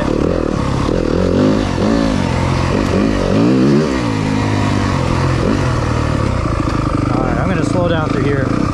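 A 2023 Yamaha 250FX dirt bike ridden off-road through trees, its engine loud and close with constant revving, rising and falling pitch and clattering, while the rider talks over it.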